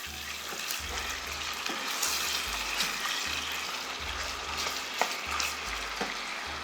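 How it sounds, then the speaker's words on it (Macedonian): Chicken meat frying in oil in a traditional pan, a steady close sizzle with bursts of stirring and scraping, no talking. "И најпрвин ќе го ставам пилешкото месо да се запржи."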